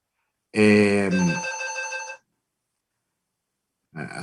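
A mobile phone rings loudly and close during a talk on Mediterranean regional alliances, giving one sustained tonal ring burst, then a gap of silence before a second burst starts.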